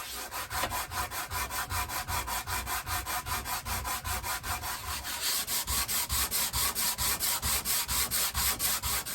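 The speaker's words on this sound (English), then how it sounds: "there's a lot of sanding to be done here" A wooden guitar body is sanded by hand, with steady, rhythmic back-and-forth rubbing strokes of abrasive on wood at close range, loud and continuous throughout with no talking.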